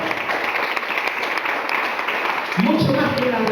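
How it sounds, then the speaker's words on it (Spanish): A church congregation applauds the Lord, a dense wash of clapping that holds steady, then a voice cuts in over it near the end. "¿Cuánto le dan un aplauso al Señor?"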